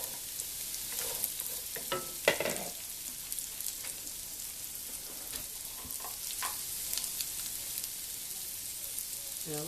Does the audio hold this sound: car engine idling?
no